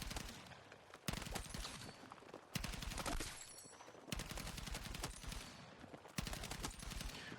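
Bursts of rapid automatic fire from an M417 A2 rifle during jump shooting in Battlefield 6. Several dense volleys of sharp, crackling shots are separated by brief pauses, loud and close with no talking.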